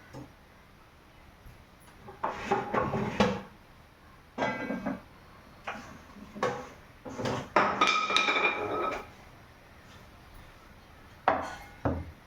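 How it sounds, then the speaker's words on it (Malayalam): A knife chops ivy gourd on the back of a chapati board, with several bursts of quick, rhythmic knocks at close range separated by pauses, and no talking. "സോ നമുക്ക് ഫസ്റ്റ് കോവയ്ക്ക മെഴുക്കുവരട്ടിക്ക് വേണ്ടി കോവയ്ക്ക കട്ട് ചെയ്യാം."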